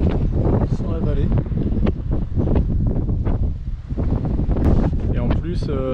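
Gusty wind buffets the microphone in low rumbling bursts while people talk outdoors.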